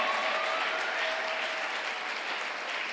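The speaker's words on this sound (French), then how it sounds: "vos acclamations ne sont pas très fournies." Applause from a conference audience at an international training and inauguration event, a steady, dense wash of clapping sustained throughout, fairly even in level with no voices over it.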